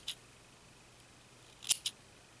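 Scissors snip through yarn scraps in a quiet room: one quick cut, a pause, then two more crisp snips close together, close and clear.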